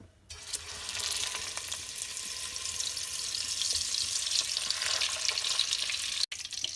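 Unsalted butter melting in cooking oil in a pan, a steady close hiss of sizzling that begins abruptly and holds evenly throughout, with no voices.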